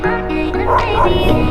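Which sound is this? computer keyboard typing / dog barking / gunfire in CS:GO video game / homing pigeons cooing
dog barking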